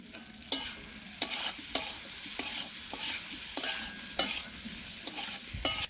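Potato and paneer curry with spices being stirred and fried in a pan, a soft steady sizzle under repeated sharp scraping strokes of a spoon against the pan at a regular pace, close and fairly quiet, no voices.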